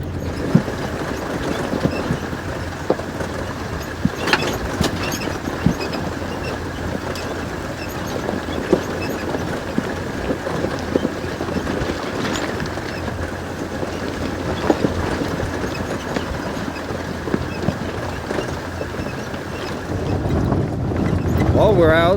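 A 4x4 vehicle rolling down a bumpy gravel dirt road on a mountain trail at night: a steady rumbling drone of engine and road noise, with scattered knocks and rattles from the jolts, continuous and fairly loud.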